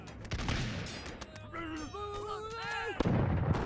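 Cannon artillery fire in the Totally Accurate Battle Simulator video game, with sharp booming blasts at the start and near the end and wavering tonal game sounds between them.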